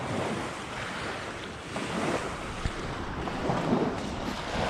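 Strong waves churn on the Bang Phra reservoir during a fishing outing, a continuous loud wash of water with gusting wind buffeting the microphone and no voices.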